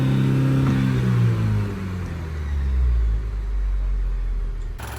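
A 2023 Chevy Colorado with the L3B engine revs at wide open throttle, a loud close roar whose pitch sweeps up and down before settling into a steady high drone, with no voices.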